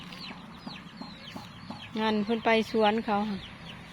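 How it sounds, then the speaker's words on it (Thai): Chickens clucking in a rural garden plot, soft scattered clucks followed by a loud run of four or five close, tonal calls, with a person speaking briefly nearby. "ไก่"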